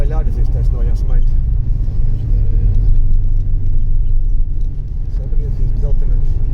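A car engine pulls hard and accelerates, a steady low rumble that stays loud throughout with slight surges, while a person talks over it inside the cabin.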